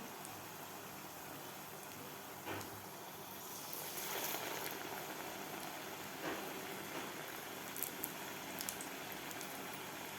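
Rava medu vada frying in oil on medium heat gives off a faint, continuous bubbling fizz with a few soft crackles and pops scattered through it, steady throughout with no talking.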